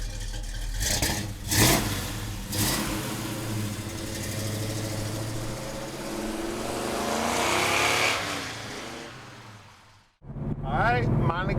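A 1970 Chevrolet Monte Carlo with a big-block engine and five-speed rumbles and revs, rising and falling under someone talking before a brief cutout and a restart.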